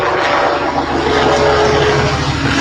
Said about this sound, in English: That is a helicopter.